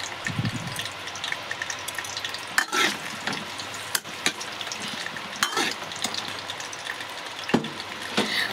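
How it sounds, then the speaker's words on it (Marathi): Eggplants fry in hot oil in a wok, a steady close sizzle broken by intermittent scraping and stirring clatters, with no talking. "कढईमध्ये तेल गरम करून एक माप तेल घालून वांगे मस्त परतवावे"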